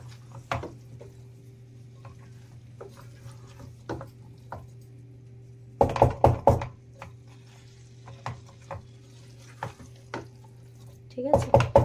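Boiled vegetables and slightly overcooked potatoes are mashed and mixed in a pot for an oil-free mixed vegetable dish, giving irregular wet squishes and spoon knocks against the pot over a low steady hum, with busier bursts of stirring, no talk.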